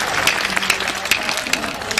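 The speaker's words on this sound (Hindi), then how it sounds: "ठोक दो एक बार ताली।" Applause from a crowd at a Hindi poetry recitation, a brisk burst of dense clapping with sharper individual claps standing out.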